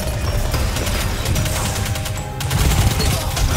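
Rapid SMG fire in Destiny 2, a dense stream of loud, close shots that runs steadily through the whole stretch, with one brief dip near the middle and no talking.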